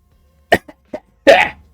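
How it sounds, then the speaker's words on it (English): A person coughs in a short sequence: a sharp cough, two smaller hacking bursts, then a longer rough cough that trails into a strained breath, close and fairly loud against near silence. "He's like coughing out like sewage water."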